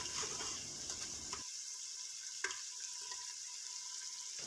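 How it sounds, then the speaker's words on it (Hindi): Masala and mutton paya frying in a pan, a steady soft sizzle that cuts off partway, leaving a quiet gap with a faint clink or two. "ये देखें कितने अच्छे तरीके से इसकी भुनाई हो चुकी है, कितना अच्छा इसका मसाला बन गया है।"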